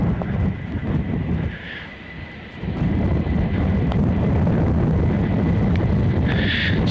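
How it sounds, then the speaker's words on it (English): Strong wind on a San Francisco city street buffets the microphone in heavy, roaring gusts, dipping briefly before surging back and holding steady. "Very windy today."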